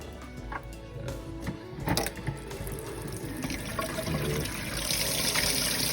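A water jet drives a prototype micro hydro turbine at full blast, a dense, steady rushing and spraying hiss with rattling mechanical ticks that grows louder toward the end.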